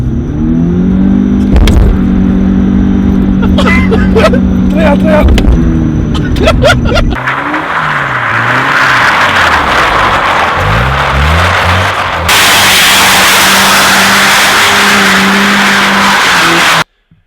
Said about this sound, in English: here's that car drifting